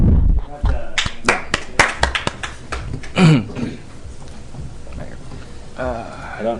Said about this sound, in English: let's give him a round of applause for NCKU admission